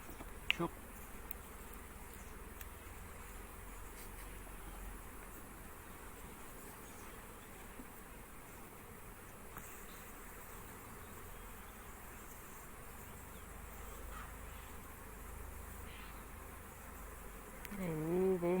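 Honeybees in an opened hive in Central Anatolia give off a steady, faint, continuous buzzing drone, close by and unbroken throughout, with a brief voice near the end.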